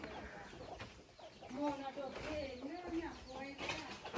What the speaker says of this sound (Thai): ตัวนี้ก็เป็นเล้าไก่เลี้ยงไก่ด้วย